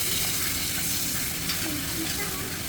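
Rice stir-fries in a wok for Chinese-restaurant-style fried rice as soy sauce is added, with a loud, continuous, close-up sizzling hiss that stays steady throughout.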